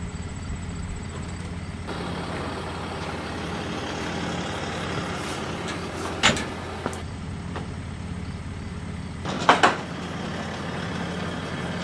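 A truck hauling a trailer carrying a folding corn head for a Gleaner combine pulls in, its engine rumbling steadily throughout, with two brief hissing bursts that sound like air brakes.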